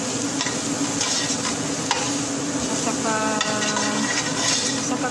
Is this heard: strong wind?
no